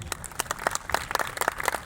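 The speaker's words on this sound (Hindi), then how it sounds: "सो आपकी भरपूर तालियों में" An audience at a formal church and political ceremony, where flowers are being presented, gives a light round of applause, scattered individual claps rather than a dense roar, moderately quiet.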